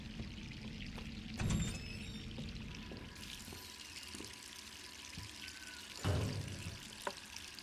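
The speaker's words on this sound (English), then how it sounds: "I hear the water again." Water running and pouring inside a survival horror video game, a steady wash of splashing flow with two louder surges partway through and near the end, plus faint clicks and thuds.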